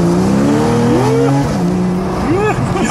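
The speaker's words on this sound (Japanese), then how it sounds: "ちょっとホイールスピン的な しちゃいます ね 若干 パワーありすぎちゃう。" Porsche 911 Carrera S Cabriolet of about 400 horsepower accelerating hard with wheelspin, engine note climbing and falling through gears, loud and close from inside the car, with people talking over it.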